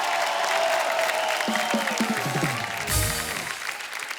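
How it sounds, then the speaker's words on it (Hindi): A studio audience at a comedy talk show applauds, with sustained, dense clapping and crowd noise continuing throughout while musical stings play over it. "जोरदार तालियां हो जाए एक बार बब्बर फैमिली के लिए।"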